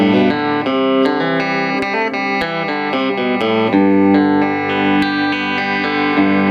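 Electric guitar on a coil-tapped bridge pickup through a Boss Nextone amp with 6V6 output tubes, played as a steady run of strummed and picked chords with a slightly driven, sustained tone, loud and alone.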